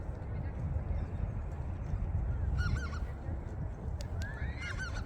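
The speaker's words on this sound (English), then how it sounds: "A lot of geese, flocks of geese." A flock of geese honks at Gas Works Park in Seattle, a few scattered calls rising over a loud, steady outdoor rumble of wind and distant noise.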